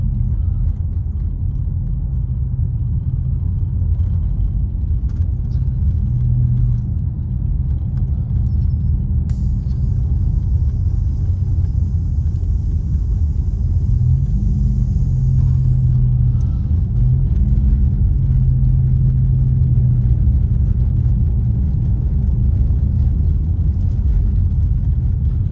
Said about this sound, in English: This is what it's like driving at night here, you guys, right now, during all this snow.